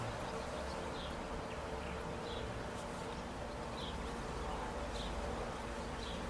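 Female leafcutter bees working inside a nest cell, heard as a soft, continuous buzzing hum, faint and close, with a steady background hiss.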